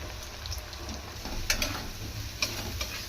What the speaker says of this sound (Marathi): आपण इथे टोमॅटो छान परतून घेणार आहे